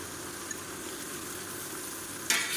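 Ground garlic paste frying in hot oil for a mutton biryani, a faint steady sizzle with a brief louder burst of hissing at the end.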